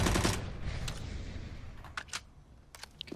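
Gunfire from Counter-Strike during a professional match, with a dense burst of shots at the start followed by a few scattered sharper cracks, fairly loud against background game noise and no talking.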